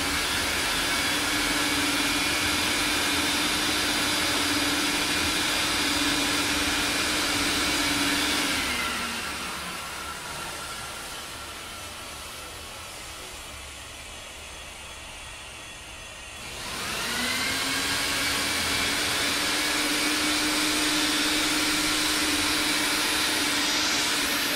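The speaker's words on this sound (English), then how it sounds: "Take a look how we clean Oriental rug by using the Expert Pee machine and the Dead Sea natural cleaner." An Expert Pee rug cleaning machine vacuums an Oriental rug with a loud, steady roaring drone and a high whine. The whine drops away midway, the sound softens, and then it climbs back to full strength.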